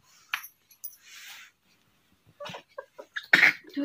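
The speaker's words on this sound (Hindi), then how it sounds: "दूध खांसी हो रही है उसकी गले में अटक गया दूध" A few small, sharp coughs and sneezy bursts from a kitten choking on milk come close up between quiet gaps, brief and high-pitched.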